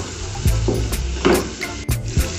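Masala paste frying in a hot pan for a carrot moong dal curry, a steady close sizzle with a few louder stirring scrapes breaking through.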